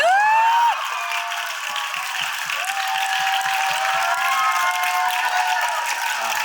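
Audience at a film screening talk in Yongsan breaks into loud applause and cheering, a burst at the start settling into sustained clapping and whoops that continue to the end.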